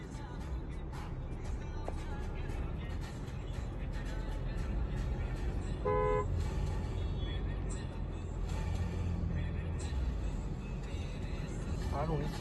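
A single short car horn honk sounds on a winding zigzag road through forest toward Netarhat, heard from inside a moving car under steady road noise and ongoing talk.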